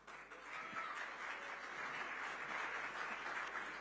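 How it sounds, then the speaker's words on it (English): Steady applause from a large audience at a live awards ceremony, dense continuous clapping heard at moderate distance and sustained without a break. "Can we please have a huge round of applause once again for Rishabh?"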